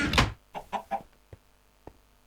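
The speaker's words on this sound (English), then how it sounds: "Chicken's laid an egg." Chickens in a modded Minecraft game give a loud cluck followed by a few shorter clucks and two faint knocking taps, with no talk.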